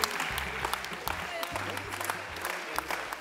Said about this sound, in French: Je souhaiterais qu'on applaudisse très fort Baya qui représente ce film.